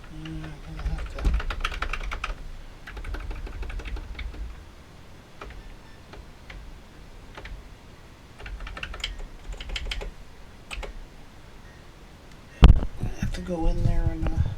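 Typing on a Coleco Adam computer keyboard on a repair workbench, a steady run of close clicky key presses in uneven bursts with low background noise and a louder clack near the end.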